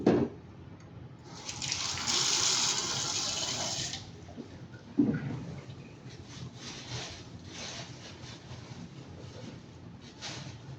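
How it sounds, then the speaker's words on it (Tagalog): Tap water runs into a sink during face washing, a steady splashing gush that starts and stops in bursts, loud and close with no talking. "maglamos muna ako ng tubig, maglagay muna ako ng sabon"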